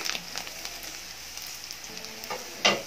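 Grated coconut fries in a pan over low to medium flame for an egg curry, giving a soft, steady sizzle with light scraping stirs and one sharper clatter near the end.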